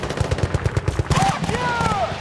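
Rapid automatic gunfire crackles in the Battlefield Bad Company 2 video game, bursts of shots under shouting voices, followed by a whistling sweep of sound.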